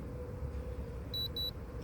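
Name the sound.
Hunter Roam XL remote beeps, sprinkler pump kicks on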